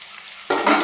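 Cauliflower florets and potato pieces fry in oil in a pan, a quiet hiss suddenly bursting into loud, close sizzling as they are stirred.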